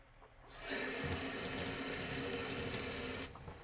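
Water gushes from a tap into a sink in a steady, loud hiss that starts abruptly, holds for about three seconds, then cuts off.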